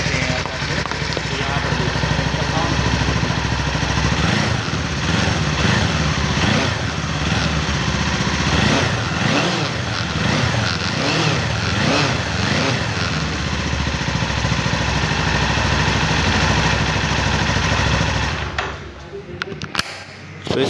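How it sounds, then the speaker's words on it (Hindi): A 2024 Kawasaki Eliminator 450 motorcycle engine runs steadily and loudly up close with a deep, bassy rumble, holding a constant note for most of the time before cutting off near the end. "तो हम आपको एक बार इसको स्टार्ट करके गाड़ी का साउंड सुनवा देते हैं।"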